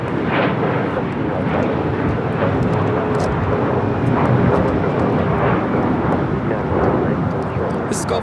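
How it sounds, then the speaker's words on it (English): A Gulfstream G450 jet takes off at LAX with a loud, continuous roar of engine noise that stays steady and rumbling throughout, with voices heard under it. "This Gulfstream G450 is taking off to Bozeman"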